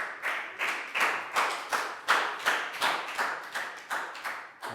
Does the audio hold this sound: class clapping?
yes